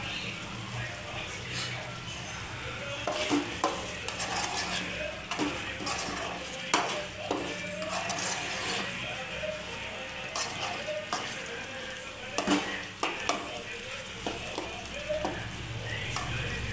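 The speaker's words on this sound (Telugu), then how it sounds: "కొద్దిగా బాగా కలబెట్టేస్తున్నాను అడుగు అంటుకోకుండా" Chicken curry being stirred in a pan, with intermittent scraping and clinking of a spoon against the pot over a low simmering sizzle, close by, with a faint voice at times underneath.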